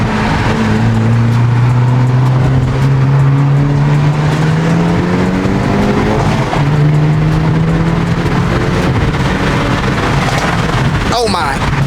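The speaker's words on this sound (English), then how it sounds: "The noise more comes from pops, right, than the actual like exhaust." A Hyundai Elantra N engine drones loudly at full throttle with its exhaust resonator removed, pitch climbing through the gears, with sharp crackling exhaust pops near the end and voices underneath.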